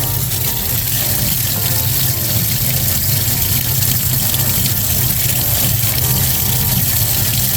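Water from a hose pours continuously into a guppy fish tank, a loud, steady rush with no pauses throughout.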